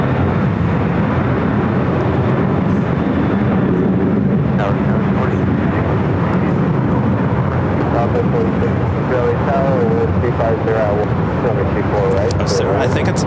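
An airliner takes off at LAX, a broad steady jet roar filling the air at a distance, with people talking over it throughout.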